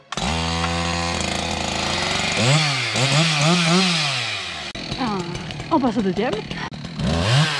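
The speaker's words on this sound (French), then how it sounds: "La tronçonneuse." A chainsaw idles and revs during tree removal above a road, a steady engine drone rising and falling in pitch, with someone speaking over it near the end.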